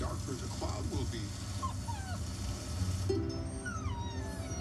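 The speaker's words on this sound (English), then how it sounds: "I don't think Bubble Puppy likes the rain. He gets a little scared." A cartoon puppy whimpers and whines in thin, rising cries amid steady rain noise, with voices talking around it.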